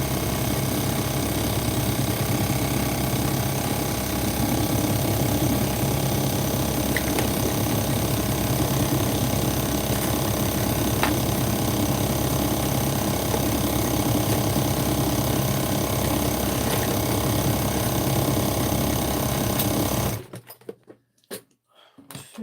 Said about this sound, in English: I always try to wind my bobbins